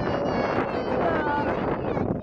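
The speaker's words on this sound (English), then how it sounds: "I'm sorry it's so windy" Strong outdoor wind buffets the microphone near an airport in a loud, constant rumbling roar, with a voice faintly mixed in underneath.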